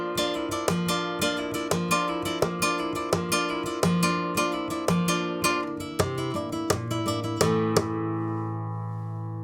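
Flamenco guitar plays a Bulerías compás phrase held on a single chord, with sharp rhythmic strums and accented rasgueado hits in a driving pattern, close and clear, ending on a ringing chord that fades out.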